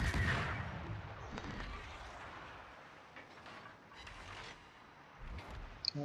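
Naval guns on the destroyer Nicholas fire in a warship battle game: dull booming shots with long rumbling tails over a constant engine-like drone, moderately distant, a few separate salvos spread across the stretch.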